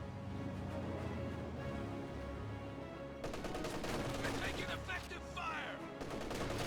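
A machine gun team lays down suppressing fire in Company of Heroes 2, its rapid bursts rattling continuously through a dense, loud battle din of explosions and other gunfire.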